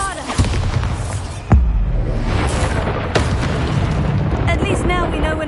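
Bombarda spell blasts in Hogwarts Legacy, booming bursts with sharp thuds landing amid dense game noise and echoing rumble, loud and close, with a voice speaking over it.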